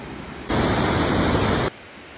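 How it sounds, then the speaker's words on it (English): Rushing roar of Blackwater Falls in Blackwater State Park, West Virginia, a steady broadband wash of falling water that swells loud and close for about a second before easing back to a softer roar. "This is Blackwater Waterfalls in Blackwater State Park, and this is the most beautiful,"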